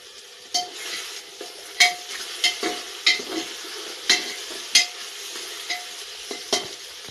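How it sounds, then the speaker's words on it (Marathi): Peanuts are stir-fried in a pan for masala rice, a steady sizzle broken by regular scraping and clinking strokes of a spoon against the metal, with no voices. "आता हे शेंगदाणे टाकून घेणार आहे."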